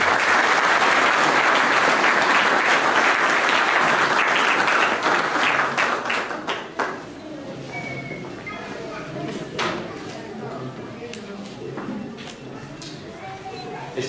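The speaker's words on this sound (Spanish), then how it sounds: "lo recibimos con fuertes palmas" Strong applause from a public gathering in Carhuaz for a national glacier project coordinator, loud, dense clapping at first that thins out after about six seconds into scattered claps, with voices audible beneath.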